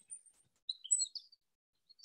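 Chickadees calling nearby outdoors: a handful of faint, thin, high chirps scattered through the quiet, clustered in the middle, with no talk.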